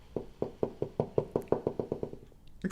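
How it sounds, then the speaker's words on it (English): A knocking sound effect within a song production plays as a run of about thirteen evenly spaced, hollow knocks, fairly close and dry, ending with a brief brighter hit. "And so here's the knocking."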